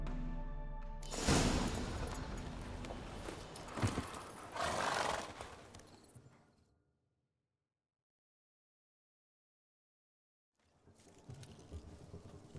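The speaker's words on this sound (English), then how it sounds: "Spooking my horse. Roach doesn't like ghosts." Roach, a horse in The Witcher 3, whinnies and snorts in fright at ghosts, with hoofbeats and loud, busy in-game sound, then a long silence before quieter ambience returns.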